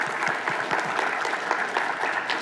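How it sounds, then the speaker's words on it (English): A keynote audience at a Microsoft Data Platform RDP Airlift event breaks into a sustained round of applause, dense and steady, with many hands clapping at once throughout. "Give her a round of applause"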